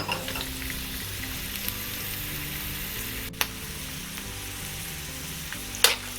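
Red onion sautés in oil in a wok-style pan, giving a steady, even sizzle throughout with a couple of sharp clinks from a utensil against the pan.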